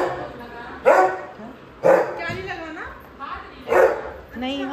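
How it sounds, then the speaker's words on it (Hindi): A dog barks three times in loud, evenly spaced woofs close by, with whiny yips in between, while people talk around it. "हेलो डॉगी, क्या नाम है इसका?"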